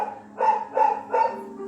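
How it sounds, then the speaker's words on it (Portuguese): A female dog barks three times at a steady pace in a quiet indoor setting during a church talk, the barks moderately close and clear with no talk over them. "vocês devem estar ouvindo aí uma cachorra latir aqui"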